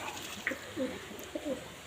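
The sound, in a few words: pigeons cooing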